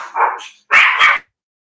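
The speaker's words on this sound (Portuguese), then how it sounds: "Pegou e eles começaram a latir." Dogs bark twice, close and fairly loud: a shorter yelp is followed after a brief gap by a longer, sharper double bark, then silence.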